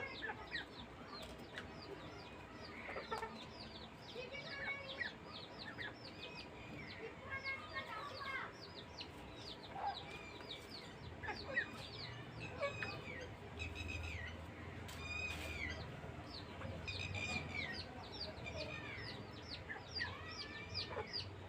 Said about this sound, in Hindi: मुर्गियाँ जो है ना वो तंग कर रही हैं